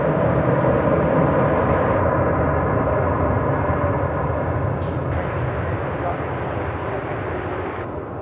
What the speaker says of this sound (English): United Airlines Flight 842 coming in from Sydney there in Australia. 787-9 Dreamliner.